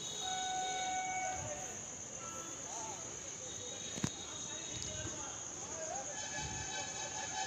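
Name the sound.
Naihati–Budge Budge local train entering platform 4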